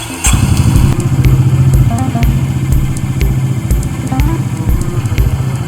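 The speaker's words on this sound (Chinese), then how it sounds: "安装完毕后，我们发动引擎" A Honda H'ness CB350 motorcycle engine runs at idle close up, a steady loud thumping rhythm of single-cylinder pulses with light mechanical clatter throughout.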